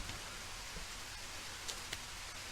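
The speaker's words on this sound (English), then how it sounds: "Can hear the rain." Rain falls outside in Iowa as a faint, steady hiss with scattered soft drop ticks, heard alone without voices.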